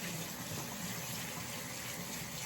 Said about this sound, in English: And then rinse off your brush.